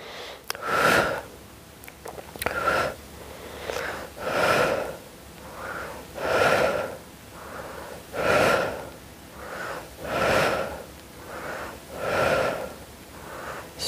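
Heavy, rhythmic breaths in and out during a muscle-strengthening workout, about eight or nine strong exhalations spaced roughly every one and a half to two seconds, close and clear with no talking.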